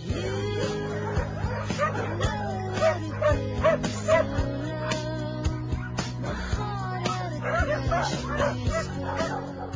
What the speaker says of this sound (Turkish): köpek çiftliğinde daha çok av köpekleri var. Yavrular da erginler de muhteşem.